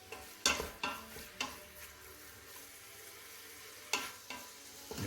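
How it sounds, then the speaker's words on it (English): Ground beef sizzles in an Instant Pot set to saute for chili, a soft steady fry with a few sharp stirring scrapes and clatters scattered through, fairly faint and without talk. "So what I did with my Instapot is I put it on saute first, so I can do the first part of my chili. So I add my ground beef in."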